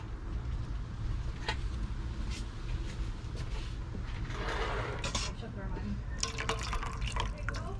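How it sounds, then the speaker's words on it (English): Huckleberries are rinsed under a kitchen sink tap, a steady running-water splash with dripping and a low hum beneath, rising into a brief louder gush near the end. "I'm just gonna take these to the sink and give them a quick rinse"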